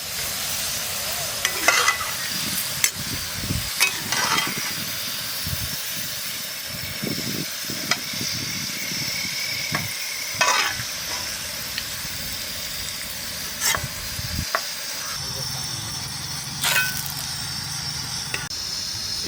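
Onions frying in oil outdoors, a dense, continuous sizzle and hiss with repeated stirring scrapes and clanks throughout.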